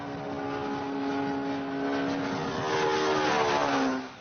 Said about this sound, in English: The plane produces sound waves.